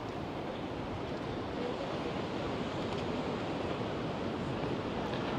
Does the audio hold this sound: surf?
yes